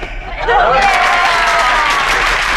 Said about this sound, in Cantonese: 多謝各位同學嘅掌聲。